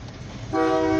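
A rumbling grain hopper freight train rolls past, then its horn blasts loud and close, a sustained chord cutting in halfway through.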